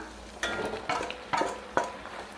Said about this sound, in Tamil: பாஸ்தா சேர்த்துட்டு நல்லா கலந்து விட்டுறலாம்